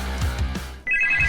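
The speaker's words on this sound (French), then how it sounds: "Oh, un téléphone?" An electronic telephone ringtone starts partway through as a steady, high, sustained two-tone ring, coming in loud after a stretch of low rumbling background.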